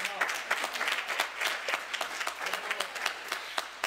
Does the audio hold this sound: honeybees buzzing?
no